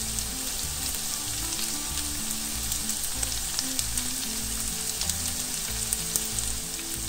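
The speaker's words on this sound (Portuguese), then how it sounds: "Agora vamos acrescentar 4 dentes de alho picadinho." Minced garlic sizzles in a pan with onion that has been sautéing, a steady dense frying crackle heard close, with a faint stirring scrape and no voices.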